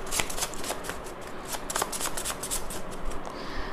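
Tarot cards shuffled by hand at close range, a steady run of quick crisp riffling flutters that continues unbroken for several seconds with no talking.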